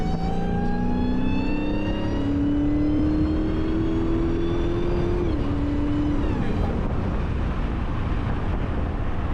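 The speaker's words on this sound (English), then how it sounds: "You'll always be in it just to hear the SuperCharger." A supercharged, cammed Dodge Hellcat Charger engine pulls hard from inside the car, its rising supercharger whine and engine tone climbing through a shift, loud and continuous throughout.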